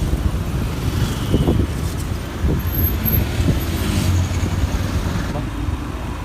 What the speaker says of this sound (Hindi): देखिए यहाँ पर ट्रैफिक बहुत ज़्यादा हो रखा है